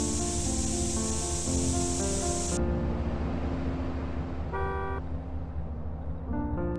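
Spray paint hissing from a can while a gang tag goes up on a wall in GTA San Andreas, a steady loud hiss that cuts off partway, with game music and vehicle sounds continuing underneath.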